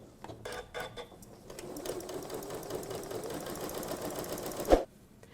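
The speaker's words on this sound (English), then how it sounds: "I'm gonna do the first seam at 3/8 of an inch away from the edge" A Janome sewing machine runs steadily while sewing a seam, a continuous close mechanical whir with rapid needle clatter, preceded by a few short start-stop bursts and ending with a sharp clunk before it stops.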